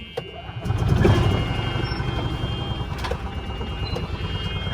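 A golf cart bought at auction backs off a trailer under its own power, a steady engine drone rising at the start and running continuously with faint beeping and clatter, no talk.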